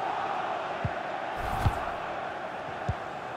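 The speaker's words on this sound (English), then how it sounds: "Well, just listen to these Chelsea fans." A stadium crowd of Chelsea fans in a FIFA 21 Premier League match against Manchester City on PS5, a steady roaring wash of distant voices with a few faint thumps and a brief swell.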